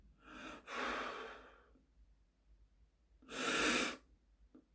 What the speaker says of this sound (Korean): 호흡을 완전히 뱉고 천천히 뱉고 난 다음에 3초 있다가 또 조금 빨리 코로 호흡을 들이키고